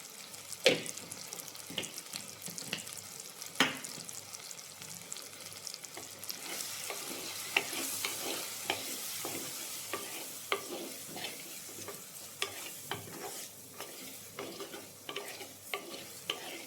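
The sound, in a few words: stirring spice powders frying in a pan for chicken curry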